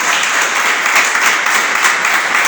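A church congregation bursts into loud, sustained applause, many hands clapping in a thick continuous roar with no voices standing out.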